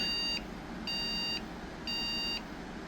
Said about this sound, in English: three beeps. I'm assuming that's RAM.